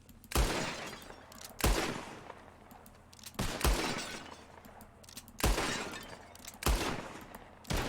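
In Red Dead Redemption 2, a revolver fires at bottles in a shooting contest: about six loud, evenly spaced gunshots, each with a crash of shattering glass and a short echo.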